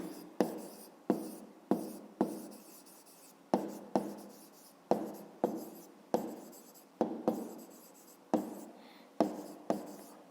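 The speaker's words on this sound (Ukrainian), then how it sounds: "Ну а зараз записуємо тоді відповідь." A pen scratches across paper as an answer to a fifth-grade math exercise is written out by hand, a quick series of close, rhythmic strokes with brief pauses between words.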